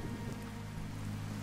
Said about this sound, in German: Im Regen.